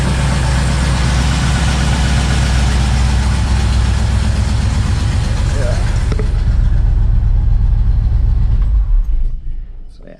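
A 1961 Pontiac Laurentian engine idling smoothly, a steady loud low rumble that runs evenly for several seconds before fading out near the end.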